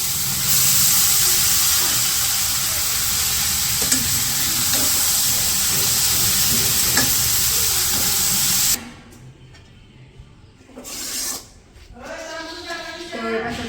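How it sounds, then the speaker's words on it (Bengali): Noodles and tomatoes frying in a pan, a loud, steady sizzle with stirring for several seconds that cuts off abruptly, followed by quieter scraping and soft kitchen sounds. "এই যে পাশে টমেটোগুলো তো ভাইজে নিচ্ছি, এখন হচ্ছে নুডলসগুলো দিয়ে দিই।"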